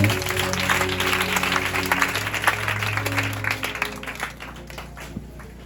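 A church congregation claps and cheers steadily, a dense wash of applause that slowly thins out toward the end, with a low hum beneath.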